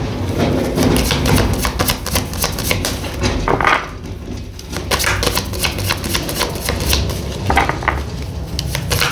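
Tarot cards are handled, shuffled and drawn from the deck, producing dense, continuous riffling and slapping clatter close up, with brief pauses and rustling between bursts.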